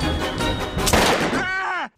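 A cartoon breakfast machine fires a single loud gunshot partway through, a sharp crack against busy animated sound, followed by a brief ringing tone before it cuts to silence.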